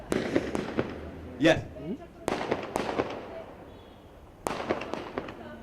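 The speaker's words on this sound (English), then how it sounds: "I get the best view of the firecrackers." Firecrackers bursting outdoors during a holy-day celebration, several sharp cracks in a quick cluster, then isolated loud bangs, heard with voices talking nearby.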